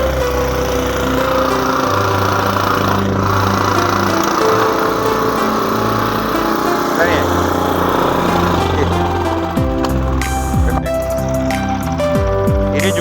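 A small-engine cultivator tills soil on a dragon fruit farm, its motor droning steadily and loudly throughout with rough, shifting tones, while people talk over it.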